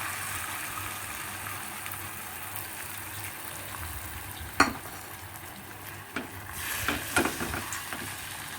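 Beaten egg mixed with milk, black pepper and salt sizzles steadily in a pan for a cheese omelette, a close, constant frying hiss broken by a few light utensil clicks and scrapes.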